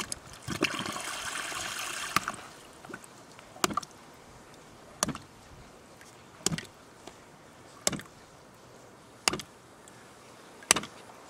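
Water running through a homemade hydraulic pulse pump as its valve slams shut over and over, a sharp knock roughly every one and a half seconds over a low steady rush of water, starting with a brief louder gush.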